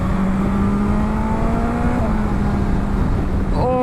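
A BMW S1000XR sports tourer engine revs hard under riding, a loud close whine rising steadily in pitch through the gear with rushing wind noise, then a quick shift and renewed climb at the end.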